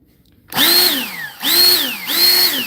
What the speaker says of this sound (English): we're gonna turn this to the inside diameter of this nozzle